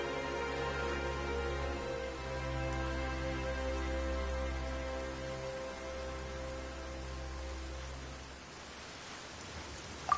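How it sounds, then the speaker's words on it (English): Steady hiss of rain in the video game Genshin Impact pours down over a low, sustained musical hum, with a faint sharp click near the end. "Why is it raining all of a sudden?"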